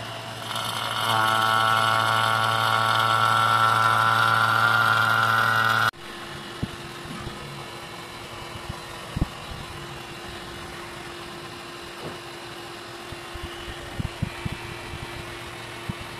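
A motor drones loudly and evenly for about five seconds during installation of a 2HP Haier split-type air conditioner, then cuts off abruptly, leaving quiet room tone with occasional soft clicks and knocks.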